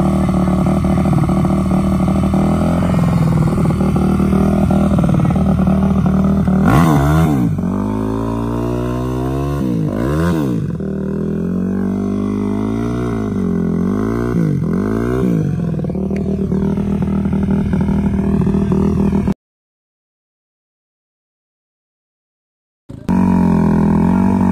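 A dirt bike engine runs on the sand dunes, loud and close, its pitch climbing and falling through several revs over a steady idle before the sound cuts out briefly and then returns.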